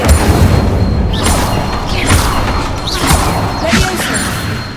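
An Incendio fire spell is cast in the game Hogwarts Legacy, giving loud booming fiery blasts and crashes that run throughout amid dense combat noise, with brief vocal sounds mixed in.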